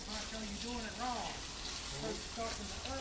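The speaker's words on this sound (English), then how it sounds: "Rinsing all the grime off." Water spraying steadily to rinse grime off removed convertible top parts from a 1973 Chevrolet Caprice, a continuous broadband hiss with voices talking over it throughout.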